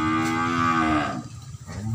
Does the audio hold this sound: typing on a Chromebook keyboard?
no